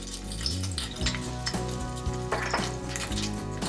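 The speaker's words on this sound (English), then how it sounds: "As the cumin seeds are spluttering" Cumin seeds splutter and crackle in hot oil in a pan, a loud continuous sizzle with sharp pops and a few metallic clinks of a pot or utensil.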